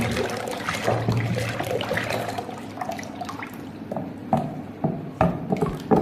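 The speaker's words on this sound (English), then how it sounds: "We are pouring in our sulfonic acid." Sulfonic acid poured into a dissolved liquid soap mixture in a container, a close gurgling trickle with small knocks and clinks, steady and moderately loud with no voices.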